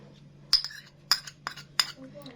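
Metal spoon clinking against a dish while cumin is spooned into eggplant baba ghanoush, four sharp, bright taps spaced roughly half a second apart, close and moderately loud, over a low steady hum.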